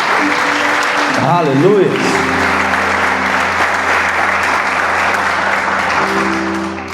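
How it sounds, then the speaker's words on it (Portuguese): A church congregation breaks into loud, sustained applause with scattered shouts, close and full throughout, while a voice calls out over the clapping. "Dê a melhor salva de palmas para a palavra de Deus."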